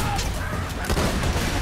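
Rapid bursts of gunfire from the video game Borderlands 2, a dense continuous stream of shots over a steady game soundtrack.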